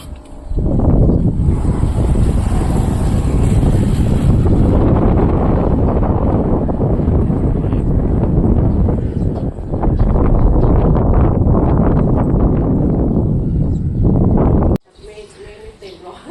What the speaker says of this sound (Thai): ลมพัดแรง ใช้ได้อยู่